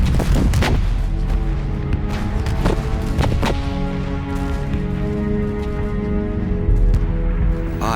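Heavy World War I artillery bombardment at the Battle of the Somme, a steady barrage of deep booms and rumbling blasts rolling together, loud and continuous with sharper reports standing out in the first few seconds.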